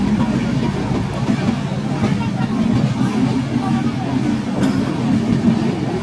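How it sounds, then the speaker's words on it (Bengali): A crowded passenger train rolls steadily along its rails with a continuous low rumble and faint rhythmic clatter, while a murmur of voices and passenger chatter runs underneath throughout. "আমাদের ট্রেনটি এই মুহূর্তে ছেড়ে দিল"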